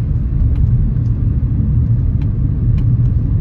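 A car drives slowly through a residential subdivision right after a home brake fluid flush, its steady low engine and road rumble loud and continuous from inside the cabin.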